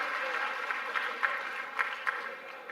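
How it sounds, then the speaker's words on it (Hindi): Seminar audience at IIT Delhi claps steadily through the whole stretch, a dense, moderately loud wash of applause with a few sharper individual claps standing out. "एक बार अपने लिए भी जोरदार तालियां बजा दो यार"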